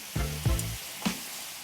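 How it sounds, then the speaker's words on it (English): Pitted cherries hit a hot frying pan and sizzle, with a few short bursts of crackling and stirring noise, close and distinct, no talk. "So the cherries go straight into the frying pan."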